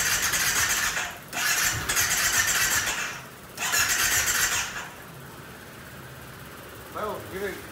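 Cheap ATV, four-wheeler being cranked: repeated bursts of broadband starter grinding that cut in and out over several seconds without catching, then a short quiet stretch, all fairly close.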